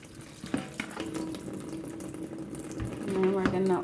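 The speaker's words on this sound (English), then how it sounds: "we're going to go ahead and give our fruit a rinse with cold water" Fruit being rinsed under cold running tap water, a close splashing flow with irregular water bursts, heard under a talking voice.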